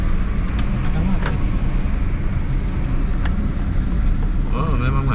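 A congested road in Batam Center, Batam, rumbles with idling and creeping car engines in a steady, close traffic drone, while people talk inside a vehicle and a brief horn-like tone sounds near the end.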